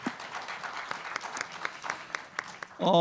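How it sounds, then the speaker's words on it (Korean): A room full of people applauds, scattered claps rising and falling in a steady patter for a few seconds. "역시 뜨거운 박수로 환영해 주시기 부탁드립니다"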